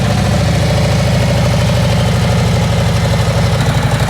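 A motorcycle engine idles nearby with a loud, steady, low pulsing throb and a slight rattle, unbroken for the whole stretch with no voices over it.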